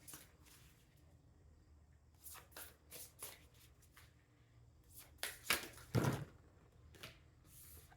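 A deck of tarot cards being shuffled by hand, with soft riffling flurries and brisk slaps that grow louder near the end, close and quiet.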